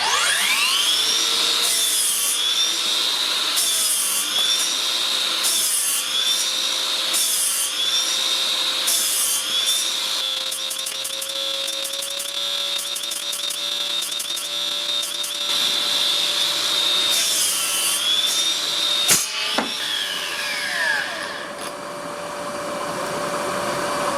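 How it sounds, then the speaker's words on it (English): A Milwaukee 12-inch cordless mitre saw spins up and cuts through wood in a series of repeated passes, a loud sustained whine with rasping bites, then winds down near the end. "Try doing this with a Milwaukee 12-inch cordless Mitre Saw and see if it doesn't overheat."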